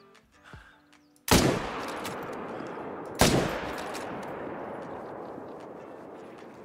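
Two loud hunting rifle shots in a whitetail deer hunting game, about two seconds apart, each with a long rolling echo decaying into the open outdoors; quiet ambience before the first shot.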